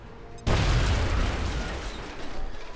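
A frag grenade going off in XCOM Enemy Within, a sudden loud blast after a moment of quiet, followed by a long rumbling decay that slowly fades.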